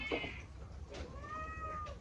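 A cat meows twice, a short high cry then a longer drawn-out one, fairly faint against low room noise during a rainy-day fried chicken meal.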